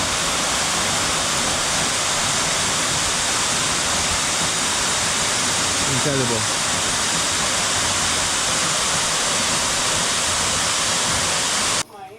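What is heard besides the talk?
Buruwisan waterfall in Laguna, Philippines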